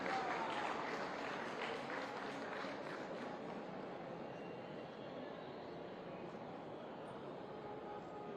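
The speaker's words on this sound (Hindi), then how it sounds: "आप सभी एक बार जोरदार तालियां आप सभी की तरफ से।" Loud, sustained applause from an audience at a hospital cancer unit inauguration in Lucknow, a dense steady roar of clapping that continues throughout, close and full.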